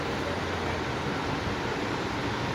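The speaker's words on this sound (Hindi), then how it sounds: "ऊपर चल रहा है फैन, फैन की आवाज़ आ रही है।" A ceiling fan runs overhead in a house, making a constant, even whooshing hum that stays steady and fairly loud with no clear variation or voices.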